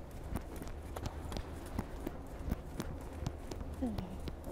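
Horse hooves thud and clop in a steady rhythm as a horse is ridden in a riding lesson, close and continuous with a constant background rumble.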